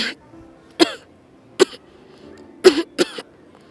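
Several sharp coughs and throat-clearing bursts, close and loud, in an irregular rhythm with quiet pauses between, one pair coming in quick succession near the end.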